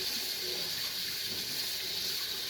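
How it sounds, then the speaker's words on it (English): Tap water runs steadily into a kitchen sink during squid cleaning, a continuous close hiss and splash with no pauses and no talk. "you keep the water running"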